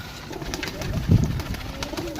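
Pigeons at a loft in Gujrat, Sarai Alamgir, among breeds such as golden and green Indian birds, give low soft coos that swell briefly midway through a steady background murmur.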